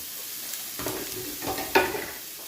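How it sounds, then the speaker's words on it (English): Chopped onion frying in a pan for spaghetti bolognese, stirred with a spatula: a steady soft sizzle broken by three broadband scraping strokes, the last sharpest, close and fairly quiet with no talking. "We're going to brown these onions off a little bit."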